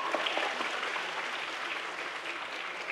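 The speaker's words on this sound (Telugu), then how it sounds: "సార్ గట్టిగా చప్పట్లు." An audience at a stage event for a science program in Telangana applauds loudly, a dense, even wash of many hands clapping that holds steady throughout.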